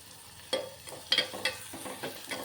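Chopped onion and a sprig of curry leaves frying in hot oil in a pan, with a soft sizzle and several sharp stirring scrapes and crackles at irregular intervals, close and moderately quiet with no talk.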